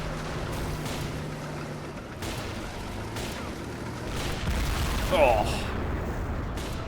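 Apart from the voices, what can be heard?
mortar shells exploding nearby in a WWII video game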